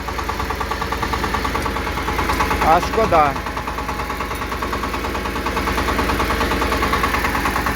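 A Kentavr 244 mini tractor engine idling with a steady, chugging throb close by; someone speaks briefly partway through over the running motor.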